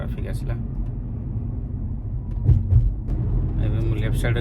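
Steady road traffic rumble from inside a car driving over a bridge toward Abu Dhabi island in Dubai, a continuous low engine and tyre drone with a brief louder swell midway, while a person talks over it.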